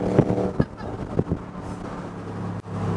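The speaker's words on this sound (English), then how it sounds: "it's got side exit exhausts for the win, and it sounds awesome" A Morgan Aero GT engine burbles and rasps from its side exhausts with a few sharp pops, mixed with wind noise and a brief voice.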